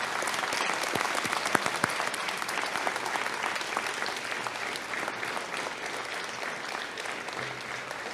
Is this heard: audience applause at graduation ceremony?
yes